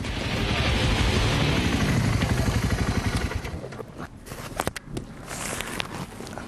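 Terra and Strada motorcycles pass by on a test ride, a loud engine drone swelling and fading over the first few seconds, followed by quieter clatter and mechanical noise.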